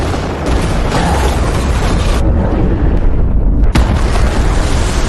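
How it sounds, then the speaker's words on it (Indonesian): A ship explodes in the action film The Expendables, a loud, sustained roaring blast with rumbling debris that drops out briefly and surges back with a sharp crack. "1 menit lagi kapal akan meledak."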